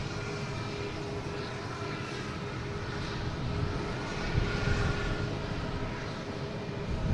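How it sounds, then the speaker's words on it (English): An American Airlines Airbus A321neo takes off from Boston Logan, its engines giving a steady, distant roar and low rumble that swells slightly toward the end, with no voices. "We have American Airlines taking off, flight 1140"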